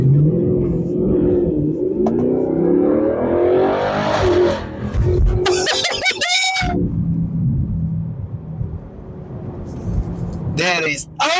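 A V8 car engine rumbles and climbs in pitch through a full-throttle pull, loud and close, with sharp gear-change breaks and repeated upward sweeps, while someone talks excitedly over it.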